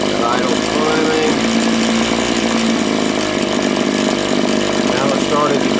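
A RedMax TRZ230S two-stroke engine runs loud and close while its carburetor is tuned, a buzzing, raspy idle with rising and wavering pitch, and a voice talks over it.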